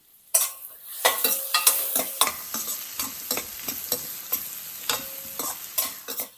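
A spatula stirs food frying with salt and oregano in a kadai, giving a string of close, irregular metallic scrapes and clanks over a light sizzle.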